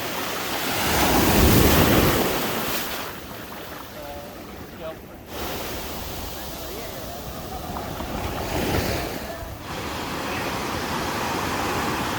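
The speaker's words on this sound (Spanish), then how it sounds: "acá hay menos olas" Ocean surf at a beach in Manuel Antonio, Costa Rica, a steady wash of waves rising and falling with wind buffeting the microphone, continuous and close.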